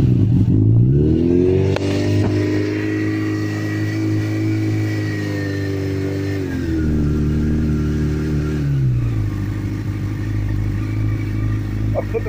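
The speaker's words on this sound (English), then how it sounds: "Ignition, full choke, full revs for about 5-10 seconds." Motorcycle engine idling roughly after a cold start in winter, then revved up high on full choke and held, a loud steady drone with shifting pitch before easing back down.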